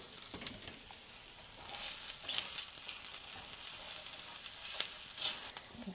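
Plantain sautéing in a pan with light brown onions and turmeric, a steady close sizzle with scattered crackles and soft stirring taps throughout, no voices.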